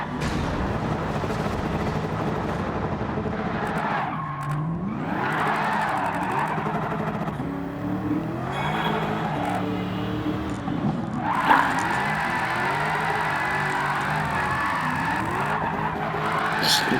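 An all-wheel-drive drift car in Gran Turismo 7 slides sideways through corners, tires squealing and skidding in long sweeping bursts while the engine revs rise and fall underneath.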